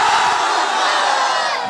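A large crowd roars a takbir chant in unison at an evening religious sermon gathering, a loud, sustained mass of voices that holds steady for nearly two seconds.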